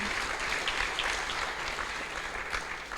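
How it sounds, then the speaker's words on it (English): Sustained applause from a seated congregation at a Sunday temple love feast, a steady wash of many hands clapping at even loudness throughout with no voices standing out. "I think Mataji deserves another round of applause for that warm class."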